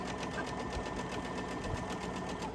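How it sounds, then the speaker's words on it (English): A sewing machine chain stitching fabric pieces one after another, running fast with a steady rapid mechanical chatter up close and no talking. "Now I went ahead and marked both of these, so I'm chain stitching these."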